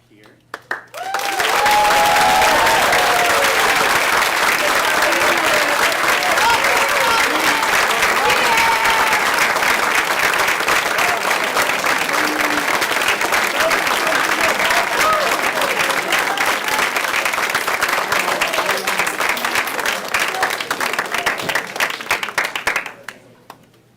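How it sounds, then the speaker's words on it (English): A large school audience gives dorm parents a long, hearty round of applause at a spring term awards ceremony, loud dense clapping sustained for about twenty seconds. "I would encourage a very hearty round of applause"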